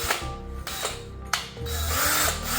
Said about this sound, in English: you want to make sure your drill is on low speed.